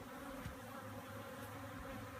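Honey bees buzzing at a Tanzanian top bar hive, a faint, steady swarm-like hum with no talking.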